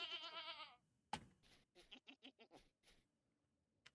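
A goat bleats in the survival game Vintage Story: one long wavering bleat opens the clip, then a run of short, choppy game sounds follows. No speech.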